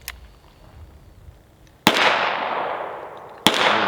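Two heavy Magnum Research BFR 30-30 revolver shots ring out loud and close, about a second and a half apart. Each blast leaves a long decaying roar, with faint outdoor background noise before the first.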